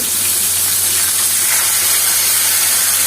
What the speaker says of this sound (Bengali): মাছ ভাজা এত কষ্ট কেন